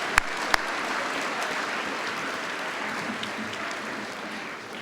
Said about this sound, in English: join me in one more round of applause